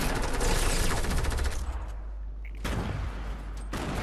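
Rapid gunfire bursts in a video game, with shotgun blasts ringing out loud and close in dense clusters, dropping out briefly mid-clip before firing resumes.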